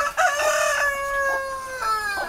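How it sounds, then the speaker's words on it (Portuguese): A young naked neck rooster crows one long, loud, drawn-out call close by, its strained voice wavering and falling at the end, with no talk. "Isso aqui é um filho do frango, do galo do pescoço pelado."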